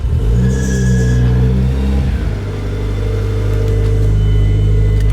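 A big-turbo Mitsubishi Evo III engine idles loud and close with a steady low rumble and a brief rev, then the note drops and falters as the engine dies away to a rough, uneven low drone.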